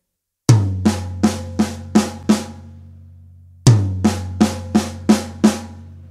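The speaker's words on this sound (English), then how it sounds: "The first grouping is taking our right hand and playing our first tom with our first hit" Two identical drum fills: a resonant tom hit followed by a quick run of snare strokes in a paradiddle-diddle pattern, played twice with a pause between, close and clear.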